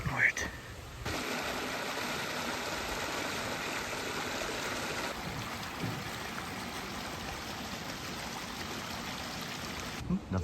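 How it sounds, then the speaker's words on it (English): Steady broadband rushing of a waterfall in Lydford Gorge heard from a short distance, continuous and fairly loud, with faint voices of people in the background. "we must be very close to the waterfall. Hear it now"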